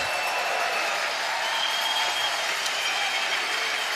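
A Swiss crowd at a men's European Curling Championship semi-final against Scotland applauds and cheers, a dense, continuous wash of clapping filling the arena without a break.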